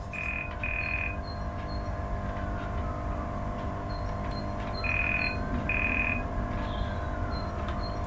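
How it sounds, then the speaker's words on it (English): Two pairs of short, steady electronic buzzes, one pair early and one later, the guard-to-driver buzzer and reply on an Accurascale Class 92 model locomotive, sound over its constant low engine drone. "there should be a guard to driver buzzer and reply"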